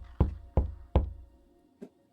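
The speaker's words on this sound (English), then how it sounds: "So you make a single knock on the door." Three sharp knocks on a door from a soundboard effect, evenly spaced and close, then a fainter fourth tap after a pause, each fading quickly into quiet.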